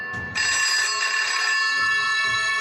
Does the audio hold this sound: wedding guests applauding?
no